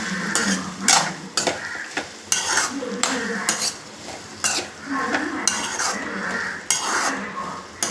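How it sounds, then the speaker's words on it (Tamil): Onions and okra frying in a pan while a utensil stirs them, giving repeated clattering scrapes against the pan in an uneven rhythm over a low sizzle, close up and fairly loud, with no talking. "கிண்டி விட்டுக்கிறோம்."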